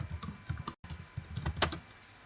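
Quiet, close clicking of computer keyboard keys as a command is typed in irregular quick bursts with a brief pause, no talk.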